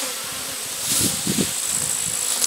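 Honey bees buzz around hive boxes in a loud, close, continuous drone that swells slightly in the middle.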